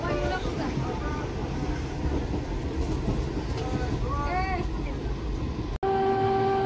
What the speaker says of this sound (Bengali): আর ট্রেন এখন গোপালনগরেই ঢুকছে।